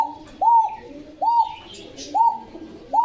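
Pigeons coo in a pigeon seller's loft in Bogura, sounding four clear, evenly spaced coos close by, with faint chirps and a soft murmur between them.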